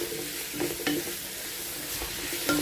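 Four large tomatoes frying in a pan give a steady, close sizzle, broken by a few sharp spoon-on-pan clicks from stirring, with no voices.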